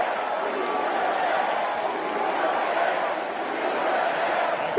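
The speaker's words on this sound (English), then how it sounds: "The crowd done went crazy." A large crowd at the Republican National Convention roars and cheers in a steady, dense wash of noise that holds for the whole stretch, loud and continuous with no single voice standing out.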